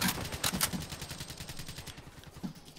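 Rapid automatic gunfire from Call of Duty: Black Ops III team deathmatch on the Hunted map, a dense burst of quick cracks with a few louder shots, fairly quiet and with no talk.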